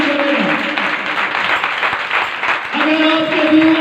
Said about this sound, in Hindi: आइए काम के लिए जोरदार तालियां बजाएं